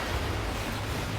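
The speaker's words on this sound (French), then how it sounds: "On peut surfer entre les vagues." Ocean surf rolls in the Fortnite video game as a continuous broad wash of waves with low rumble, steady and fairly loud, with no voices over it.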